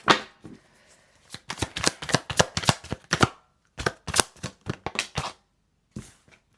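Tarot cards shuffled close by in quick, crisp riffling bursts broken by short pauses, with a few final light flicks and no talking.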